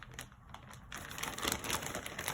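Quiet, close crinkling and rustling of a plastic bag being handled, in short irregular bursts.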